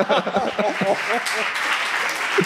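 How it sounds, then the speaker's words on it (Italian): A studio audience applauds actor Pietro Sermonti, a dense patter of clapping running underneath a voice talking over it. "un altro applauso per favore Pietro Sermonti."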